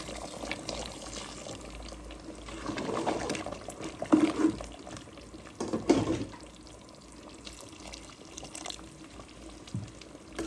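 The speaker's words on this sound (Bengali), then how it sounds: "গরম পানি দিয়ে দিলাম" Hot water is poured into a pot of chicken and new potato curry. The pour is faint and uneven, with a few louder splashes in the middle and no voices.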